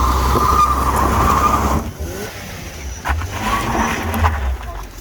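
Tires of a 1998 Lexus SC 300 with a 2JZ engine spinning and squealing after a neutral drop, a loud engine roar and skidding screech that cut off, then resume with revving under the noise.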